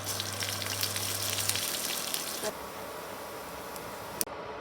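Mustard seeds, onion and cumin tempering in hot oil give a loud, continuous frying hiss close by, easing down partway through with a sharp clink near the end, no talking.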